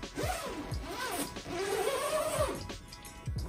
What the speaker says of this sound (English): One thing I like about Tempurpedic is they always put a zipper, which makes it nice.